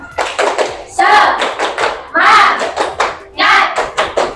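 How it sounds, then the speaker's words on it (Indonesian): A class of teachers and students in Indonesia claps in a quick rhythmic clapping chant, bursts of hand claps alternating with loud chanting voices in a close, lively room. "Silahkan tepuk semangat."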